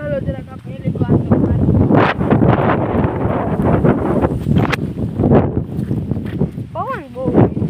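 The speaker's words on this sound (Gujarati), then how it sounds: "પવન બહુ" Strong wind buffets the microphone in an open sorghum field during harvest, a loud, continuous rushing roar with people talking throughout.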